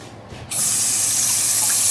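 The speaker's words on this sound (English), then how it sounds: "Cold water. Rinse it around." Cold tap water runs hard into a kitchen sink to rinse a freshly boiled chicken egg, a steady close rush of spray that starts abruptly after a brief quiet moment and continues alone.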